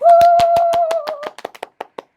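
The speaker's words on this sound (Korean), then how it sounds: "박수!" Brief burst of hand clapping welcoming a guest on a Korean radio show, a few people clapping rapidly and close, with a whistle-like tone over the first second before the claps thin out to scattered final claps.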